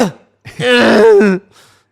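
A short throaty cough or throat-clearing burst, loud and close, followed by a brief quiet tail.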